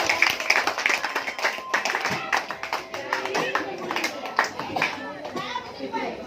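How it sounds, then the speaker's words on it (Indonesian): Classroom applause from students for the groups that just presented, a steady patter of many hands clapping with children's voices chattering over and through it. "Berikan dulu aplaus buat."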